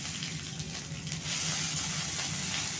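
Cumin, ginger and green chili frying in white oil, a steady close sizzle and crackle that grows a little louder midway and continues evenly.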